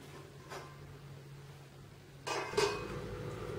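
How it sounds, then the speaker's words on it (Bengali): A metal lid lifted off a pot of payesh, Bengali rice pudding, on a home kitchen stove, giving a short clatter and clink of metal against the rim after a quiet stretch, followed by a faint ongoing rattle. "এবার ঢাকনা খুলে দেখবো পায়েসটা হয়েছে কিনা"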